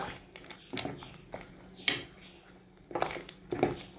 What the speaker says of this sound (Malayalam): ഇതൊന്ന് നമുക്ക് ഇളക്കണം. ഇതാ ഒന്ന് ഇളക്കി കൊടുക്കുക.